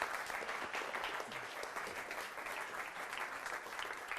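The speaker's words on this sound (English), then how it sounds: "Give her a nice round of applause." Steady audience applause at a live mentalism show, a dense, even wash of clapping that holds at the same level throughout without any talk over it.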